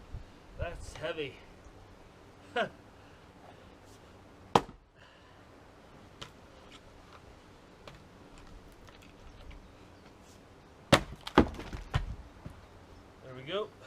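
A couple of sharp, splintering cracks of a log splitting, separated by several seconds, amid faint background rustling and muffled movement.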